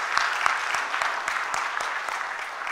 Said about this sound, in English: Can we have a big round of applause for each and every coordinator?